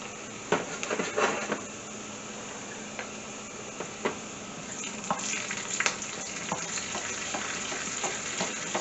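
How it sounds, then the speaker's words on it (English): Garlic with onion, fennel seeds and cumin seeds fries in a pan for dahl, giving a steady close sizzle with scattered crackles and pops and occasional stirring scrapes. "It's frying up lovely here."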